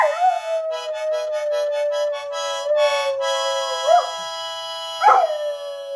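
A harmonica plays sustained reedy notes and quick fluttering runs while a dog joins in with rising, wavering howls and yips near the end, close and loud in an indoor setting.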